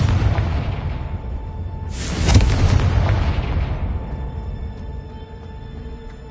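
A Confringo fire spell blasts in Hogwarts Legacy, a loud explosive boom with a sharp burst at about two seconds, then a long rumbling decay under steady low game ambience.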